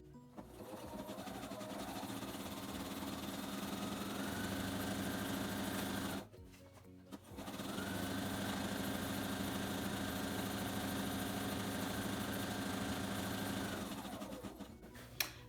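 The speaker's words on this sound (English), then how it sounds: "put your presser foot down, and start stitching" A sewing machine stitches a pillow seam in long steady runs, its motor whirring evenly and loudly, pausing briefly midway before resuming for several more seconds.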